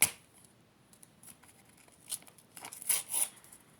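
A paper DIY surprise package being opened by hand, with short crisp rustles and snips of paper building to a louder burst of tearing and crinkling near the end, close up with no talking.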